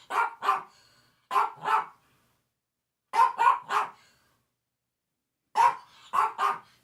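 A dog barks in clustered bursts of two or three sharp, close, loud barks, separated by clean pauses of silence, with no talking over them.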